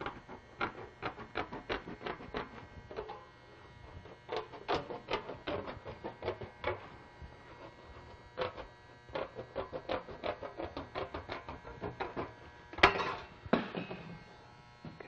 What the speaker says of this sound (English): to be able to cut with a pair of snips, just keep going in a circle, and then your waste material lifts up out of your way